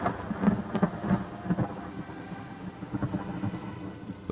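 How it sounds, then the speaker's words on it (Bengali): Drizzling rain falls on a dark road at night. It makes a soft, low, irregular patter with faint rumbling pulses, quiet and alone. "তখনও ঝিরি ঝিরি বৃষ্টি পড়ছে"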